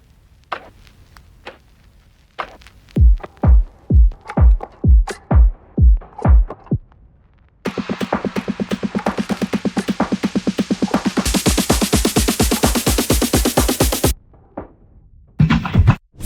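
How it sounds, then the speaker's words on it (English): An electronic bass house drum loop: a run of deep booming kicks, then a fast rolling build-up of hits growing brighter and denser before dropping out. "Drums altogether sounds like this."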